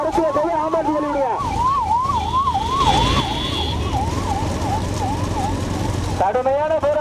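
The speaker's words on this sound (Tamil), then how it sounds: "ஆம்புலன்ஸ்" An ambulance siren wails in a steady up-and-down rising and falling pattern, loud and close, over engine rumble and crowd noise at an outdoor event, with a different yelping siren tone at the start and end.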